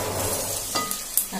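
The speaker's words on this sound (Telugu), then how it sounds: "అల్లం పచ్చివాసన పోయేదాకా వేయించుకోండి" Onions and ginger frying in a pan for an egg masala curry, a close crackling sizzle with light stirring scrapes and a couple of sharp utensil ticks.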